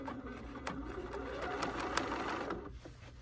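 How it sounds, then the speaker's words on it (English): A sewing machine runs steadily through a straight stitch on a Swiss-patrol pin cushion, a continuous close mechanical whir with rapid needle ticks and no talking. "And now let's do our straight stitch."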